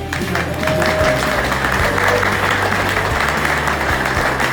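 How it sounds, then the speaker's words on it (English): Crowd applause at an annual roadster show, a loud, steady clapping from many people indoors with a low droning hum underneath and faint crowd noise mixed in. "Give yourself a round of applause."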